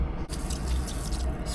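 A few splashes of soy sauce poured into a cooking pot of beef bourguignon in a boat galley, giving a short wet drip and splatter right up close.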